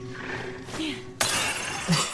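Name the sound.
glass breaking in video game Resident Evil Requiem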